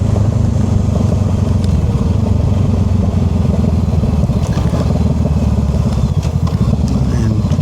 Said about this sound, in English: This is basically engine braking right here.